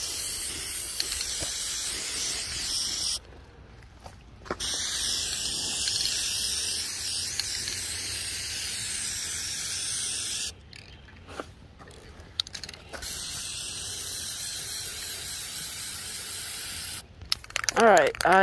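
Spray paint can hissing in long continuous bursts over a metal file cabinet being made into garden beds, with pauses between bursts and a rattle near the end.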